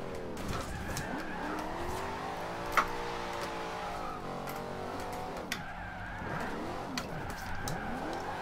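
A Shelby car drifts in a video game, its engine revving and wavering in sweeping pitch swings alongside tyre squeal, loud and continuous with a couple of sharp knocks.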